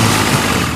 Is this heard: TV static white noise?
no